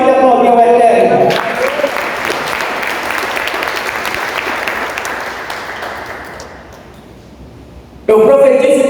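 A church congregation applauds steadily for several seconds at a Hanukkah celebration service, the clapping fading toward the end before a preacher's voice returns loudly.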